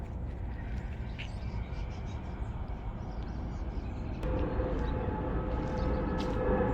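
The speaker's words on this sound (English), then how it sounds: "I hear a train." A train passes a quiet spot along a peaceful morning walking route. A broad, steady low rumble rolls on and grows noticeably louder partway through, with faint bird calls above it.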